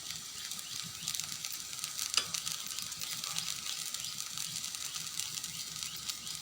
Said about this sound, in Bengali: এখন আমি এখানে দিয়ে দেবো 1 চিমটি জিরা ফোড়ন